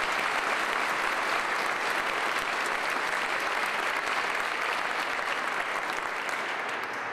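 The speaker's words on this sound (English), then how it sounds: "give Governor Dayton a round of applause for his presence here tonight" Steady, sustained applause from a large crowd at an evening event for Governor Tim Pawlenty's portrait, dense clapping holding at an even level for several seconds without pause.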